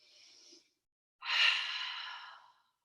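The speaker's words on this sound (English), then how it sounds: "One more deep breath here." Two breaths during a yoga flow: a short, soft exhale, a pause, then a longer, louder breathy sigh that fades out, close to the microphone with no talking.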